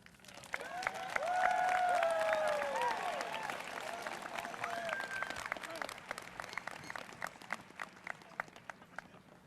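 Applause and clapping from a graduation ceremony crowd at Randall High School, swelling to a sustained roar of many hands with scattered cheers, then thinning to fainter scattered claps.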